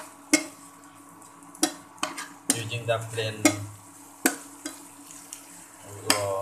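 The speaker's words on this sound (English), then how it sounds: "we are just frying it" Thin slices of oyster mushroom fry in refined oil in a pan, a low sizzle punctuated by repeated utensil scrapes and clinks of stirring, with a few brief spoken words.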